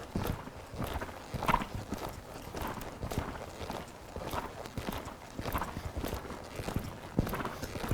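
A horse loping around an arena during a riding lesson, its hooves beating in a steady, repeating three-beat rhythm on soft footing, quiet and fairly distant, with no one speaking.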